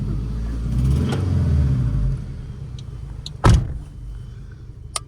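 An engine of a used Honda Civic or Toyota Camry rumbles close by for a couple of seconds and then settles quieter, with a sharp thump like a car door, and faint clicks after it.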